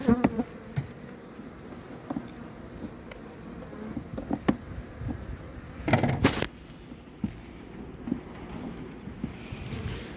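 Honeybees buzz steadily around a hive made of extruded polystyrene foam outdoors in early spring, a continuous insect drone with a few louder passes close by and occasional faint knocks.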